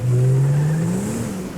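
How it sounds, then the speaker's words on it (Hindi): A car drives in a video game, its engine a steady, loud hum that slowly rises in pitch as it accelerates, with no talking. "तो अभी ड्राइव करते हैं गाड़ी को"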